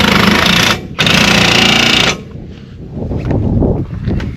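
A CV axle nut is tightened with a power tool, giving two loud rattling bursts, one short and one longer, followed by quieter clanking and handling noises.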